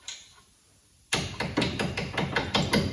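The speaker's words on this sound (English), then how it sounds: "your sledge, just tap on the head of the bolt" After a second of near silence, a series of sharp metallic hammer taps rings out, about eight blows in quick, fairly even succession, close by.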